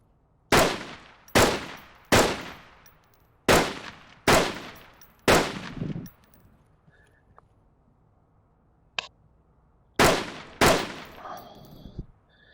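A Volk Marksman semi-automatic rifle fires in a video game: six loud, evenly spaced single shots with ringing tails, a quiet pause with a faint click, then two more shots.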